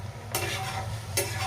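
Onion tempering sizzling in hot oil in a pan for a ridge gourd vegetable dish, a loud close crackle with two scraping bursts as a spoon stirs it, no voices.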